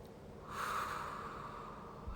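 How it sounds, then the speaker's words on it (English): A single slow, deep breath drawn in and released during a calm grounding meditation, close and soft, with no talking. "You can maybe take a couple of deep breaths and slow your breath down."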